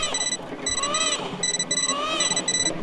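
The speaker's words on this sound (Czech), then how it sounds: "To je budík nebo co to je tohleto?" An alarm clock rings in the Sonic.exe video game, a shrill warbling tone that repeats in steady pulses over a background of game noise, fairly loud throughout.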